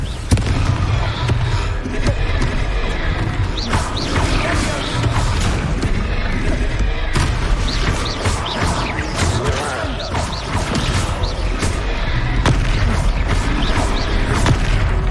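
Fiery spell blasts in the wizarding game Hogwarts Legacy: a dense barrage of booming explosions and crackling impacts during a combat fight, loud and continuous with sharp bursts throughout.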